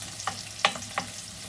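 Onions sautéing in cooking oil, a soft low sizzle with three short stirring scrapes spaced apart, close and fairly quiet, no voices.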